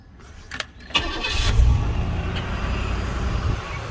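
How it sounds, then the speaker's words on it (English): A 1994 Cadillac DeVille cranks and fires up, with a short starter burst followed by a rising engine roar that settles into a steady, fairly loud idle up close. "I'm gonna go ahead and start it up and get it started up real quick here."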